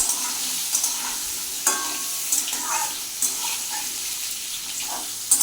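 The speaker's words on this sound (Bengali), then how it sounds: "আলুটাও লাল করে ভেজে তুলে রাখবো।" Potatoes fry in hot oil in a pan with a steady bright sizzle, broken by a few sharp stirring scrapes and spatters, close and fairly loud.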